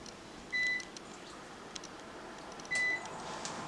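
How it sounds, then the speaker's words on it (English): An air fryer being set to temperature and cook time, giving two short, clean electronic beeps a couple of seconds apart over a quiet hum of room noise. "I'm setting the air fryer for 385, and I'm going to set this up for a 5-minute cook time."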